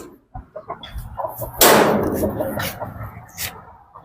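Nearby native country chickens cluck and squawk in short bursts, with a louder flurry of flapping or scuffling midway, and scattered clucks continuing after.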